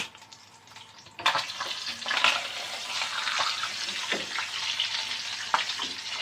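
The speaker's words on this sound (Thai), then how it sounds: "เอาเทน้ำทิ้งแล้วก็แช่น้ำเย็นไว้จะได้ให้เขากรอบอยู่" Cooking water, likely from boiling Brussels sprouts, is poured out of a pot in a kitchen, a sudden rushing splash that starts abruptly and keeps gushing with small spatters until the end.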